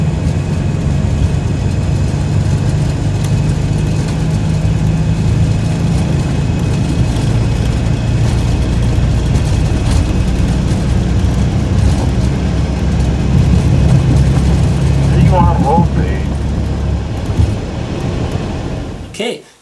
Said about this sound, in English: That's what an immediate takeoff looks like.